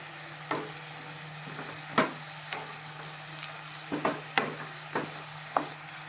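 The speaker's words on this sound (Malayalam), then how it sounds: "എന്നിട്ട് നമ്മൾ ഇതൊന്ന് നന്നായി ഇളക്കി വിടാം" Ginger paste and spices sizzle steadily in a pan for a prawn and drumstick curry, while a spoon scrapes and knocks through them in irregular strokes, close and clear, with no talk.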